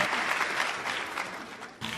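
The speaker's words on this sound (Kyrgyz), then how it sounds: "Кол чаап, колдоп коюңуздар." Audience applause at a Kyrgyz centenary ceremony honoring Seiitkazy Andabekov, a dense steady clapping that fills the whole stretch, with a slight dip and a fresh burst near the end.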